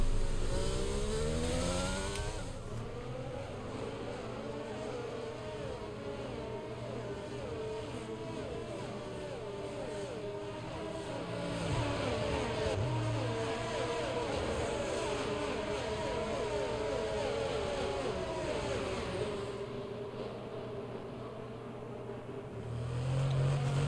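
Formula 1 cars in F1 22 trail the safety car at Baku, engines droning and revving with wavering pitch, a sustained mid-volume roar that lifts and eases as throttle changes.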